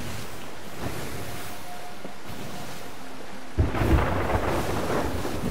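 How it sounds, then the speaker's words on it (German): Thunder rolls over open sea in the pirate game Sea of Thieves, heard from a small sloop: a low ambient wash of wind and waves, then a sudden loud, close rumbling crack that stays heavy to the end. "Da donnert's."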